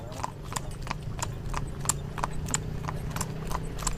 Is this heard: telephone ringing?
no